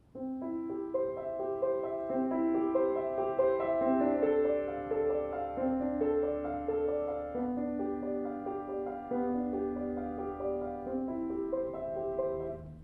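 Solo piano plays Bach's Prelude in C, evenly repeating broken chords, rippling arpeggios at a steady moderate pace, clear and close.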